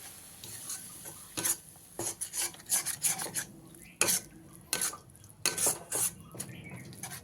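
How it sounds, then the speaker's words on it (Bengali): Spice masala loosened with a little water and sautéed in a pan for an egg curry, stirred with a spatula: repeated scraping strokes and clinks against the pan over a soft sizzle, close and irregular, with no talking. "দিয়ে ভালো করে মশলাটাকে কষিয়ে নিই"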